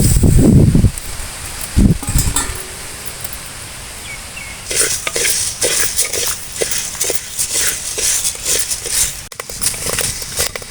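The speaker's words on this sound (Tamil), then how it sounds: "இந்த கோதுமையை அரை கிலோவை போட்டு நம்ம அப்படியே வறுத்துக்கலாம்" Half a kilo of whole wheat grains dry-roasted in a pan, stirred in loud, close, rhythmic bursts of rattling, scraping grain, with a few heavier knocks early on.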